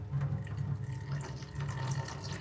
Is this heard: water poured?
yes